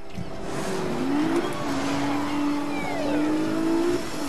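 A car in Need for Speed Rivals driving hard, the engine revving up and shifting in a steady rising whine with a brief tire squeal, heard close and continuous.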